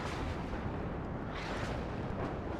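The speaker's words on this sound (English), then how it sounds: "I like that grad strike a lot." Grad rocket artillery strike in the video game WARNO, a dense continuous roar of overlapping explosions and rumbling blasts, loud and sustained with no pauses.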